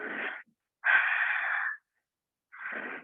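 Heavy, wheezy breaths in and out during a yoga child's pose, three long drawn breaths separated by silent pauses, close and airy.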